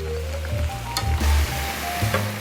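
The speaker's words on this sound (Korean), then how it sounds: "야채를 볶으면서 당면이 눌지 않도록 한번 이렇게 저어 주시고요" Vegetables and glass noodles for japchae sizzle and hiss in a hot oiled pan as they are stirred, with soft scraping and clinking of a utensil against the pan over a steady frying bed.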